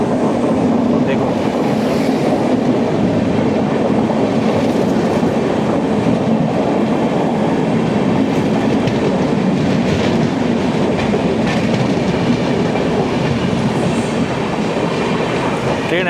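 Saraighat Express train rolling slowly near Kishanganj, a loud, continuous rumble with rhythmic wheel clatter and squeals close by, lasting the whole span.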